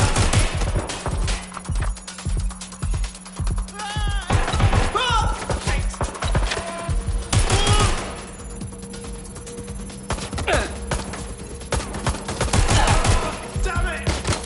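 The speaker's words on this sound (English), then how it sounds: "Suspect has opened fire." Gunfire from suspects in the Watch Dogs video game, dense bursts of shots ringing out across a game scene, with a steady tonal hum and a few brief voice fragments mixed in.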